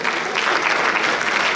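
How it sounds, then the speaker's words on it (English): Audience applause at a celebration dinner gala, honoring a clothing designer: loud, dense, continuous clapping from a crowd close by, steady for the whole stretch with no voices over it. "Let us appreciate her with a big clap."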